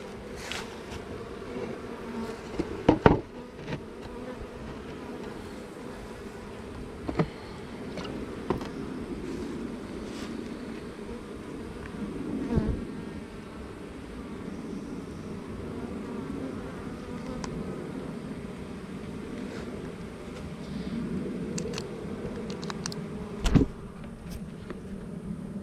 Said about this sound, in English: Bees are laid back.